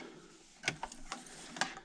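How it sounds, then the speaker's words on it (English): A home sewing machine comes to a halt while stitching patriotic placemats, followed by a few quiet mechanical clicks and clacks as the presser foot is lifted, close and faint with no talking. "I'm going to raise my presser foot and spin, and then just keep sewing."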